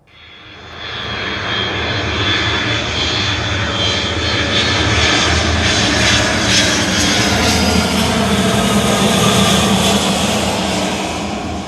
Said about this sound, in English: aeroplane का sound जो था वो हमारे ears के लिए harsh हो रहा था